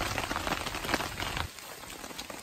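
Rain pours down at a forest campsite, a thick close patter of drops that eases to a lighter, thinner fall partway through, with no voices.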